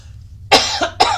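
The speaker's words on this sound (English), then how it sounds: "as I say that, I have to cough" A woman with a strained voice, during a tarot card reading, coughs sharply twice in quick succession, close and loud against a quiet room.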